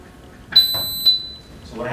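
Shot timer buzzer signalling the start of a standing three-shot chest firing drill: a single sharp high electronic beep, repeated once after about half a second, close and clear over a quiet background.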